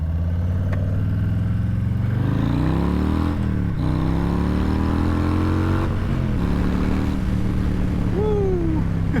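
A rebuilt Harley motorcycle engine runs while being ridden, its loud throbbing note rising and falling through gear changes and throttle shifts, with wind noise and a brief rising whine near the end.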